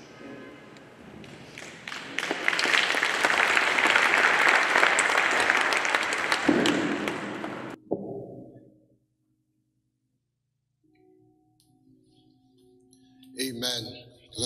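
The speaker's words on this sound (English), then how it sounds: "Let's give another round of applause." Mourners at a funeral service give a sustained round of applause, dense and fairly loud for about seven seconds before cutting off, followed by near silence, a faint tone and a brief voice at the end.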